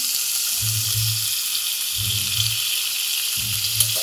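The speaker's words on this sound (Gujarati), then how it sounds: "ડુંગળી અને મસાલાને સારી રીતે આપણે થોડા કૂક થવા દઈશું." Onions and spices cooking in a pan give off a steady, bright, hissing sizzle throughout, joined by three short, low, humming bursts spaced a second or so apart.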